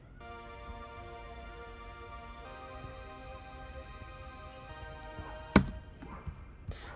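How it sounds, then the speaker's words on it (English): Bright synth pad from the BA1 Big Bright Pad preset in an indie pop production: a sustained, shimmering chord holds steadily for several seconds, then a sharp percussive hit cuts in near the end, followed by a few fainter knocks. "I also added a bright synth from BA1. It's a preset called Big Bright Pad"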